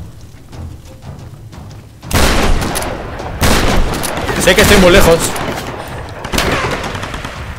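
Gunfire in the video game Tomb Raider bursts out in loud repeated volleys after a quiet start, with a voice speaking over the shooting.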